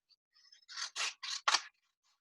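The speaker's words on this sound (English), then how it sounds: "I'm going to cut it down like this." Scissors snip through paper while a magic book is being cut, four quick crisp cuts in a row, close and clear, with faint paper rustling around them and no talking.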